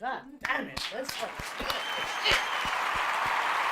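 Several sharp hand claps, made on request in a loose rhythm, start after a sworn outburst and continue into building applause-like clapping, with talk overlapping at the start.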